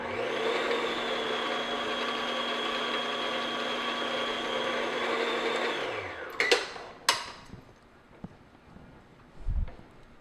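Electric mixer beating vanilla extract into white cupcake batter, a steady loud whirring hum for about six seconds that winds down and stops, followed by a few soft clunks and bowl knocks.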